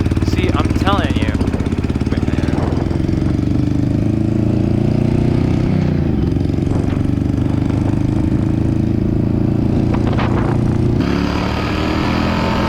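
A Yamaha V Star 1100 motorcycle that keeps losing power idles and runs steadily after being restarted, a loud continuous engine drone with people talking over it throughout.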